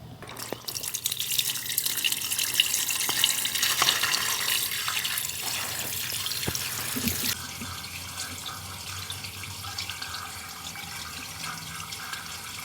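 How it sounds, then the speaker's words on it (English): Water runs from a tap into a kitchen sink and down the drain during a plumbing check, a steady hiss and splash with faint drips and clatters, then the flow drops to a quieter trickle partway through. "let's make sure the kitchen drain is working. Get all the water running out,"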